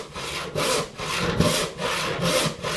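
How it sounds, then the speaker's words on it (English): A hand saw cuts through wood in steady back-and-forth strokes, about five rasping passes with a regular rhythm, close up. "The idea is to just keep sawing for a couple of minutes straight."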